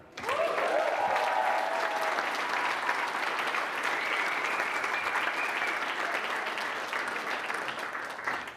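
Audience applause at a speaking event fills the room, loud and steady from the start with a few cheers and whoops, holding for several seconds and then slowly tapering.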